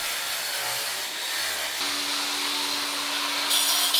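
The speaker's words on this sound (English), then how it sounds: "And diamond cutting the control joint to give it a good clean." A diamond saw cuts a control joint in a concrete floor, giving a steady, loud, continuous grinding whine with a vacuum-like rush throughout and no pauses.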